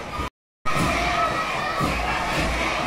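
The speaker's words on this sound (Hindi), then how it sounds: "देखिए गाइज, भीड़ 15 अगस्त की रैली को देखने के लिए।" A crowd of children at an Independence Day rally in Didihat shouts and cheers loudly and without a break, cut by a brief silent dropout near the start.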